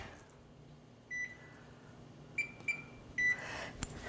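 Oven timer being set, giving four or five short, faint electronic beeps at uneven intervals over quiet room background with no talk.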